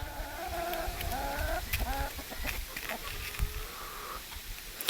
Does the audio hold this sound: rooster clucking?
yes